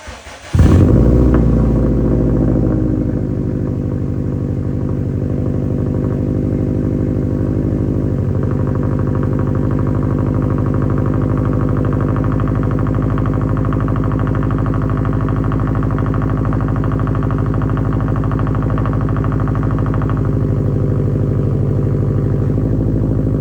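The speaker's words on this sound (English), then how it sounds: "I can show you guys a clip of a cold start of this car" Car cold start with an aftermarket mid pipe and burnt-tip axle-back exhaust: the engine fires with a sudden loud burst, then settles into a steady, deep, rumbling idle with a slight clatter that continues unbroken.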